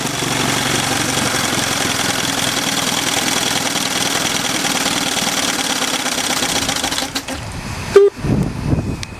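A 1964 Evinrude Big Twin 40 outboard motor runs steadily at a loud, even idle for about seven seconds, then cuts off abruptly, leaving quieter clatter and handling noises.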